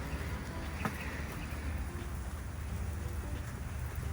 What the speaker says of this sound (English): rain is starting to pile up